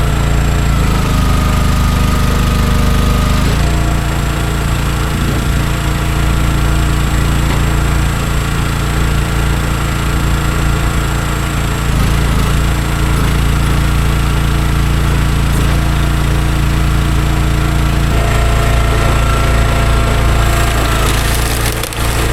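A small engine runs loud and steady close by while firewood is split, with wood-splitting cracks and splintering over the drone and a change in engine load partway through.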